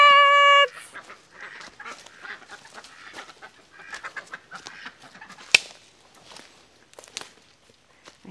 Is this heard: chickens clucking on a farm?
yes